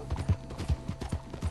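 A horse galloping in the video game Red Dead Redemption 2, a close, steady run of rhythmic hoof clops in quick succession with no talk over it.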